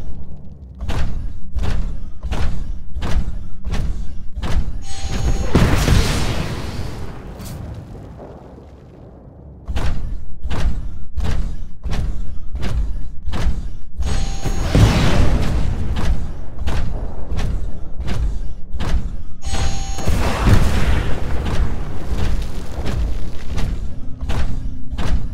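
Rocket blasts and heavy thuds in the sci-fi shooter game Titanfall, a steady run of sharp impacts with big booming bursts near 6, 15 and 21 seconds, loud and close, with no talking.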